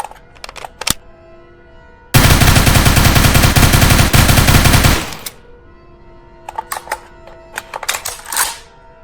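An AK rifle in a survival extraction video game fires a loud, sustained automatic burst lasting a few seconds, framed before and after by sharp metallic clicks and clacks of handling and reloading, close and without speech.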